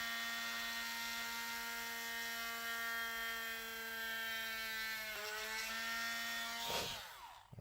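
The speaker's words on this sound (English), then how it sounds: "We'll just drill straight in, make sure it's in the center." A small drill bores a hole into a Mezco action figure part with a steady, close, high-pitched whine. The pitch dips briefly as the bit bites in, then the drill stops abruptly.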